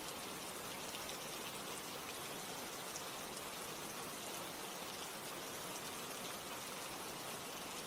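Steady rain falls continuously, a dense even hiss of drops with no other sounds and no voices.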